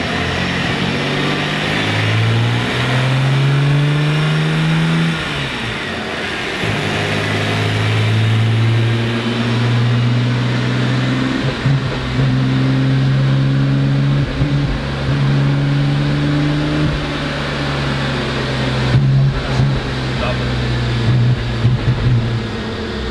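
A broken Nissan Skyline GT-R engine runs lean and rough, shaking as it revs in long sustained pulls that rise and drop, loud and close with no voices over it.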